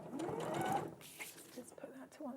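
A sewing machine stitches corduroy with a brief whirring run at the start, then goes quiet under a person speaking, leaving only faint mechanical clicks.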